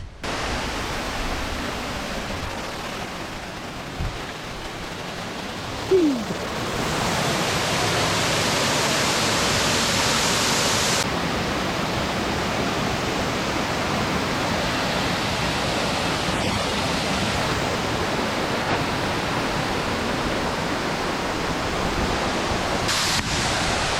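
Steady broadband rushing of a waterfall on Rote Island, Indonesia, constant and fairly loud, with a brief dull knock early on and no voices.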